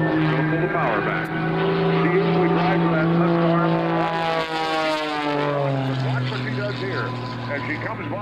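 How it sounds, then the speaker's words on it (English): An Extra 300S aerobatic propeller plane roars loudly at an airshow, its engine tone holding steady before sliding lower as it pulls up and climbs, with a commentator talking over it. "puts the nose of the Goodrich Extra 300S straight up, corkscrews into the air"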